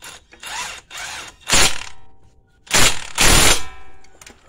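Ratchet snugging down bolts on the brakes of a 2010 Dodge Avenger, several short bursts of rapid clicking separated by pauses, close and fairly loud.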